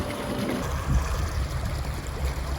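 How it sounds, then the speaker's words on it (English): Air bubbles gurgle steadily out of a pond's drain pipe as the water runs off, heard close as an irregular watery churn without any speech. "See it bubbling the air out the pipe."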